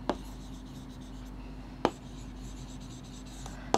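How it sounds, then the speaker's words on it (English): Writing on a board in a maths lesson comes through as three brief chalky taps or strokes spaced a couple of seconds apart over a steady low room hum. "So, here we write it at the bottom part."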